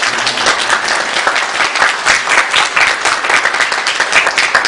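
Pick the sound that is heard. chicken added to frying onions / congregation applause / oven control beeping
congregation applause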